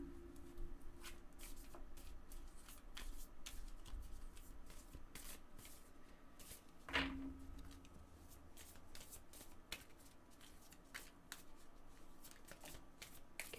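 Tarot cards are shuffled by hand in quiet surroundings, with soft riffling and repeated light slaps and flicks continuing for several seconds and one sharper snap near the middle.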